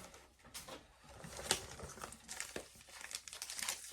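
A cardboard Pokémon TCG Alakazam V collection box is torn and crinkled open, with soft, irregular ripping and crackling close by and fairly quiet. No one speaks.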